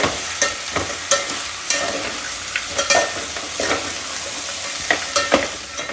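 Chopped tomatoes with carrots sautéing in a pan for a mixed-vegetable masale bhat, with a spatula scraping and tapping in quick irregular strokes over a bright, steady sizzle, close and fairly loud.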